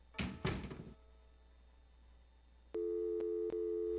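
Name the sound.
telephone busy signal in Gabriel Knight video game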